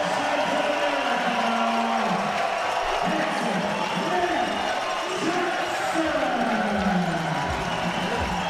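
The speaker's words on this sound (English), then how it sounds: "Brings the American crowd to their feet." An American crowd cheers at a 2022 wrestling World Cup match after a takedown, a continuous roar of cheers and whoops while a commentator talks over it.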